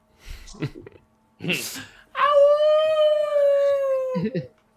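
A human voice imitates a dog's howl with one long, loud, sustained wavering note that trails off, after a few short vocal sounds.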